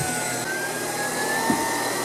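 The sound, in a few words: Tineco Pure One cordless stick vacuum cleaner running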